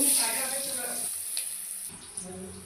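Potatoes and cumin seeds frying in a single batch of hot oil, a steady close sizzle that fills the whole stretch, easing slightly toward the end, with no one speaking.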